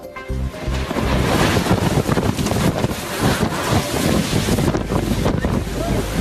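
Strong lodos wind roars and buffets the microphone continuously, a loud rushing gusty noise with no pause.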